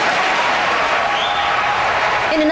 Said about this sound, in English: he got a loud round of applause for saying that